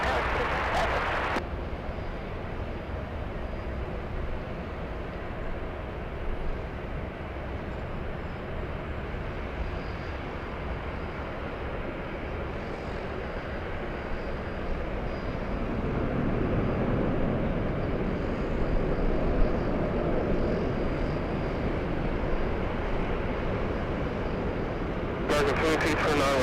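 A jet airliner takes off from runway 24 Left at LAX, a broad steady engine roar that swells toward the middle and end, with radio voices talking over it.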